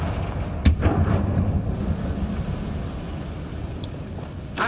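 A Confringo fire spell explodes in the video game Hogwarts Legacy, one sharp close blast followed by a rumbling, crackling decay that fades over several seconds.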